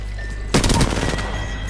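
Burst of rapid automatic gunfire in Apex Legends season 7, a loud volley of close shots lasting under a second over steady game ambience.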